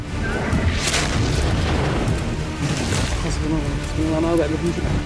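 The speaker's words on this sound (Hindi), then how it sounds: "ये यमन की राजधानी सना पर हुए हमले का वीडियो है, जिसमें एयर स्ट्राइक की आवाज साफ सुनी जा सकती है।" Air strikes pound Sanaa, Yemen, with repeated deep booms rolling over a constant low rumble, distant yet heavy and continuous throughout, with faint voices mixed beneath.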